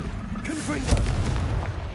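A Confringo fire spell going off in the Hogwarts Legacy video game, a deep rumbling blast with a sharp boom near the middle, heard under someone speaking.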